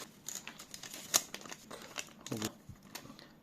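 A removed sticker from an Opel Vivaro B van is handled close up, giving faint, irregular crinkles and papery rustles with a couple of sharper crackles.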